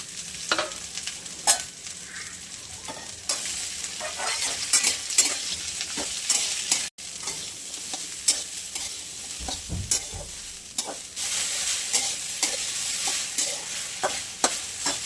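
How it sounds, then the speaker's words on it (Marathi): Okra sautéed in a pan with cumin seeds and garlic sizzles steadily and close by for okra paratha, with repeated scraping and stirring strokes over an even frying hiss and no talking. "भेंडी परतून घेणार आहे आता"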